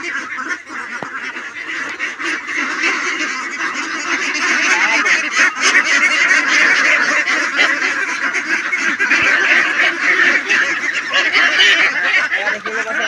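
A flock of 58-day-old local ducks keeps up a dense, continuous honking and quacking chorus, loud and close throughout with no pauses.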